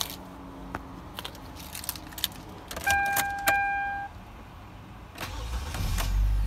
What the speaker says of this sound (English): Give the car a start now.